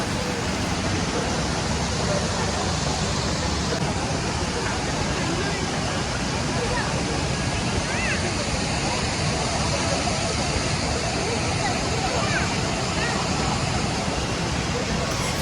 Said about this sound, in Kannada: ನೀರು ಬೀಳುತ್ತಲ್ಲ, ಆ ಶಬ್ದ,